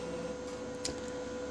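A Brother HL-2320D laser printer running a blank page, a steady mechanical hum with a constant whine and one brief click partway through, close and continuous.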